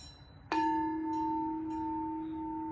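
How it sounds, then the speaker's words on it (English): A homemade single gong wind chime made from black scrap pipe is struck once, giving a sharp metallic hit that rings out as a deep, sustained tone and slowly decays, with a few faint secondary taps. "I'm gonna hit it with the gong that I made"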